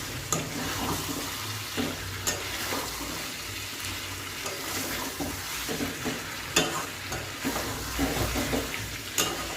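Chicken frying in oil in a pan, a steady close sizzle with repeated stirring and scraping clicks, plus some running water in the background; no talking.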